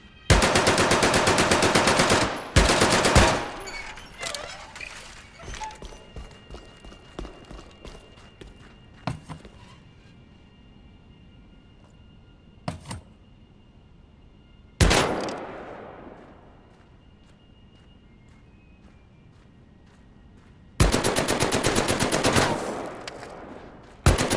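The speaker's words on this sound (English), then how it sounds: "the MP40 doesn't go wild like other automatic weapons do when firing the entire magazine at once" MP40 submachine gun firing in the World War II video game Medal of Honor, long loud automatic bursts with shorter bursts and single shots between quieter stretches, plus a few faint footsteps.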